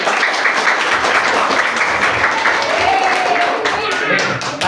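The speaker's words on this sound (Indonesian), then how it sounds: "Tepuk tangan dulu teman-teman." Children clap together in a steady, loud burst of applause that fills the room and lasts several seconds without letting up.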